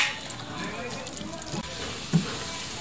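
Chopped ginger sautéing in oil in a pan, a steady close sizzle with occasional stirring scrapes and a light clink near the end.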